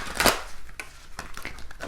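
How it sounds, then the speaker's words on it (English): A few quick tarot cards riffled and shuffled by hand, a sharp papery burst followed by lighter scattered flicks and taps, close and alone. "let's give this a quick little shuffle"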